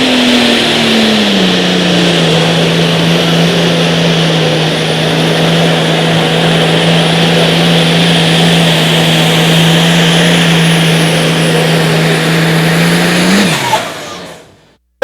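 A light super stock pulling tractor's engine roars loudly at a steady, sustained pitch for a long stretch at an outlaw tractor pull, pulling hard before cutting off abruptly near the end.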